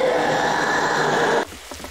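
Rain in a Roblox game, a steady loud hiss of falling rain that cuts off abruptly near the end, leaving faint scattered sounds.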